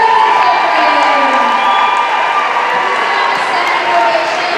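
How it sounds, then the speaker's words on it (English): Parents cheer, whoop and applaud eighth graders at a middle school awards ceremony, a loud continuous crowd roar with shouts layered over clapping. "give them a round of applause"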